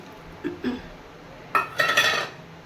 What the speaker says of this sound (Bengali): চিংড়ি ভাজা চিংড়িটা দিয়ে দিচ্ছি এর মধ্যে